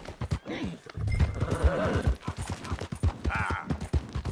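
A horse in Red Dead Redemption 2 galloping with rapid, loud hoofbeats and a whinny partway through, close up, while a voice briefly calls out over the hooves.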